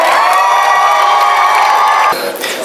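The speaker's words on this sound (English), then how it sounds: "Please give a round of applause for Dr. David Kamori." An audience at a 2017 medical academy graduation day cheers and applauds loudly, with whoops and shouts sustained as one dense crowd roar that dips slightly near the end.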